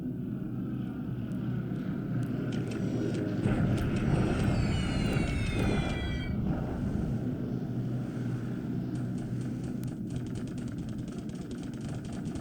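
Strike aircraft bombing a hex in the naval strategy game War in the Pacific: a steady engine drone with rising whining passes around the middle, fading to a constant background rumble.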